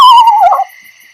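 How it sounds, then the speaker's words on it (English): A recorded eastern screech owl gives a short, descending whinny, loud and close, lasting about half a second before it cuts off into silence. "That is our eastern screech owl."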